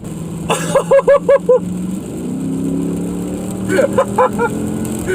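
Mercedes C63 AMG W204 V8 sports saloon revving hard, with two bursts of sharp, loud rhythmic engine pulses separated by a steady lower drone, no talk.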